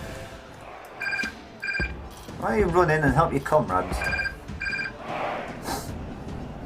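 A telephone rings in repeated short bursts during a Rome: Total War game session, each trill brief and clear, while someone talks over and between the rings.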